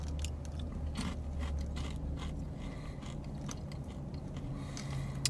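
Someone chews a Buc-ee's Beaver Nugget, a caramel corn snack, up close, with a steady run of soft crunches and mouth sounds and no talking.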